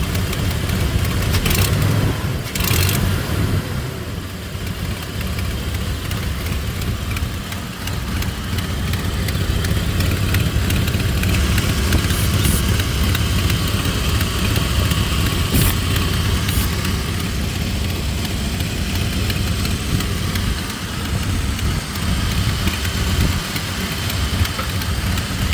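A 1998 Dodge Dakota engine idles steadily and continuously, a low rumble with an uneven, lobing, missing character, close by and alone without talk.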